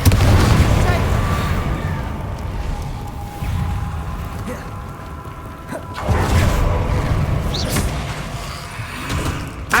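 A Confringo blasting curse explodes in the Hogwarts Legacy game: several deep booms and thuds break out at intervals over a steady, rumbling game backdrop.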